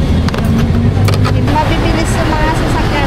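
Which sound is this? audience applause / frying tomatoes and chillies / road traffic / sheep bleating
road traffic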